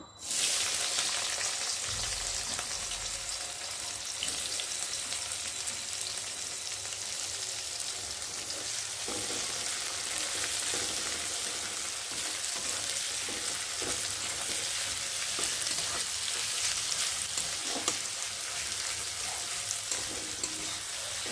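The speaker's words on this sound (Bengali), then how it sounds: "আর এখন আমি পেঁয়াজগুলো দিয়ে ভালো করে ভেজে নেব" Steady, loud sizzling of onions frying in hot oil, a continuous crackling hiss throughout with no talking.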